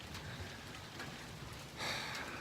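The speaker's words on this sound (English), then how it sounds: "we're getting just a little bit of rain" Light rain falls on a farm, a soft steady patter close by that swells slightly louder near the end, with no voices.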